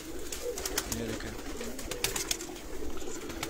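Indian pigeons coo in a loft in Sialkot, soft repeated throaty coos under a busy background of fluttering, scratching and clicks, fairly close.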